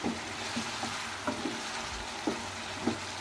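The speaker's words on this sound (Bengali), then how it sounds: "তো এইভাবে মশলার সঙ্গে খুব ভালো করে আমি কষে নিচ্ছি" Chicken frying with spices gives off a soft, steady sizzle while a spatula knocks and scrapes the pan in several irregular strokes. The sound is close but quiet, with no voices.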